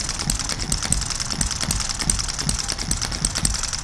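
A small M96 engine runs steadily at a fast idle, its rapid mechanical ticking and clatter repeating evenly throughout with no pauses or talk.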